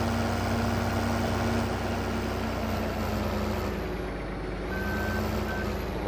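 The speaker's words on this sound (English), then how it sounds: "Looks like somebody jacked up a truck." Truck engine rumbling steadily up close in Farming Simulator 15, with a continuous drone and a faint high reversing beep appearing briefly near the end.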